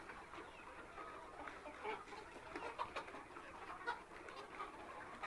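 Breeder chickens clucking in a room on a poultry farm, a steady overlapping flock chatter with scattered louder clucks throughout, fairly close and without talk.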